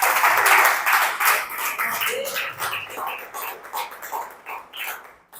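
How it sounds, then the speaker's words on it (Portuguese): A church congregation applauds at the close of a prayer service, a steady wash of clapping from many hands filling the space, with faint voices mixed in beneath it. "Aplauda o Senhor."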